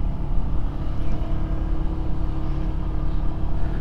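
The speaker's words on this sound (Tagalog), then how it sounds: "Sabado kasi ngayon, kaya dami ng sasakyan" Busy Saturday road traffic in Baguio City, a steady, dense rumble of car engines passing close by, continuous and loud with no talking.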